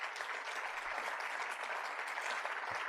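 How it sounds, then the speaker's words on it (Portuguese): An audience at a law school graduation welcome reception in São Paulo applauds an award for a school, with continuous, even clapping of many hands at moderate volume and no talk. "Uma salva de palmas ao Colégio Santa Cruz"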